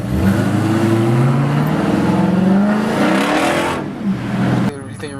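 A Camaro's engine revs hard through its exhaust, a loud, rising and falling drone that holds for several seconds before dropping away abruptly near the end.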